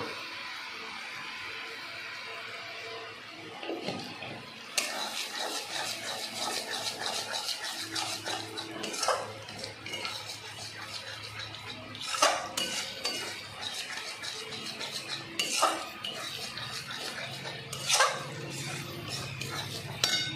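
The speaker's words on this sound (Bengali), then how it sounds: "এটাকে নাড়তে হবে, যতক্ষণ না তেল ছেড়ে আসে ততক্ষণ এটা নাড়তে হবে।" A spoon stirs spice masala in a pan, scraping and clinking against the metal in irregular strokes with occasional sharper knocks, close and moderately loud against a low background.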